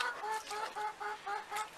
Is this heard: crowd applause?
no